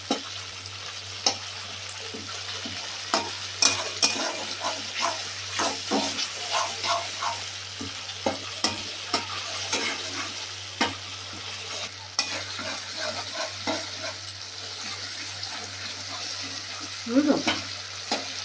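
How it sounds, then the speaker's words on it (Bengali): Tomatoes frying in a pan as they are stirred into a masala, with repeated scraping stirs over a steady sizzle, close and moderately loud, and a brief murmur near the end. "টমেটোগুলোকে একটুখানি করে দিলাম, মিক্স করে দিই।"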